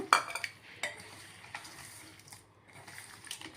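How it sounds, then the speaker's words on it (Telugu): Chicken biryani being stirred in a cooking pot, with a spoon scraping and clinking against the metal a few times, close and fairly quiet, with no talking. "కలుపుకుందాము ఇందులో కొంచెం కొత్తిమీర కూడా వేసుకుందాము"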